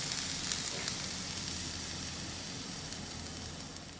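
Ripe bananas simmering in a pot on a stove to make a fertilizer solution for orchids, a steady, soft, bubbling hiss that continues without a break and has no talking.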